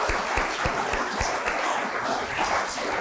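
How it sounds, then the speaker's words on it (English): An audience at a community foundation's Founder's Day picnic applauds its donors: dense, steady clapping from many hands that holds at an even level for its whole length, with a few low thumps underneath. "Please join me in applauding our donors who make the work we do as a foundation"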